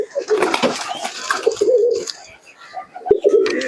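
Teddy pigeons gathered for sale coo in low, repeated rolling phrases, with a voice talking over much of it.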